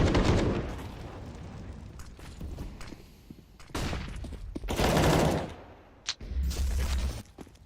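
Gunfire in a Counter-Strike esports match, bursts of rapid automatic shots and single cracks in clusters, close and loud, with brief gaps between volleys.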